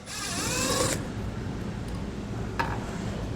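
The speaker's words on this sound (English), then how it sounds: "we need to take our screws out of our taillights" A Torx bit driver backs a screw out of a vehicle taillight, giving about a second of close whirring, ratcheting mechanism noise followed by a brief click.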